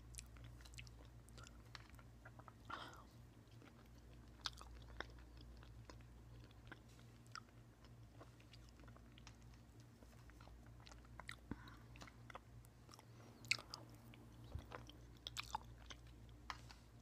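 Quiet, close-up chewing and biting on coffee gelato studded with chocolate chunks, with soft wet mouth sounds and small crunchy clicks scattered irregularly over a steady low hum, no talking.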